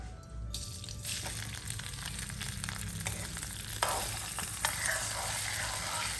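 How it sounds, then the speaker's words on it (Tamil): Ghee sizzles steadily in a pan while ingredients for Srirangam aravanai fry and are stirred, with close bubbling and occasional scraping stirs over a constant crackle. "இது வந்து இப்ப நீ நல்லா பொரிஞ்சு அந்த நெய் திருப்பி வெளியில வருது பாரு."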